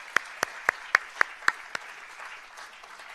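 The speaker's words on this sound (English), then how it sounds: "So let's give them a round of applause as well." Scattered handclaps from an audience acknowledging event sponsors: about seven sharp, separate claps ring out over the first two seconds, then trail off into a faint room murmur.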